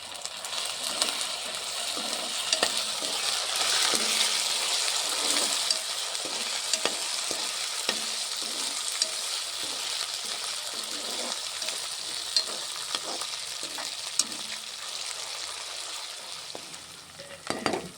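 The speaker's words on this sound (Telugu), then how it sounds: "అల్లం వెల్లుల్లి పేస్ట్ వేస్తున్నా" Ginger garlic paste frying in a pan over browned onions for a village-style chicken curry, giving a steady, close hiss and sizzle with occasional stirring scrapes and clicks throughout, no voices.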